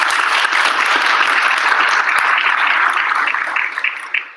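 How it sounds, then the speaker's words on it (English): Loud, dense audience applause at a meeting's closing plenary, steady clapping close to the microphone that holds for several seconds and then tapers off, with a few last claps trailing away. "let's give them a round of applause for being on board"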